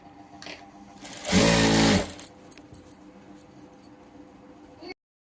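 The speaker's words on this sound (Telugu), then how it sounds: "ఇలా రెండు మడతలు అయితే వేసేసుకొని కుట్ట అనేది వేసుకోండి ఫ్రెండ్స్" A sewing machine stitches along a double-folded fabric edge in one short, loud whirring burst of under a second, with quiet handling clicks before and after.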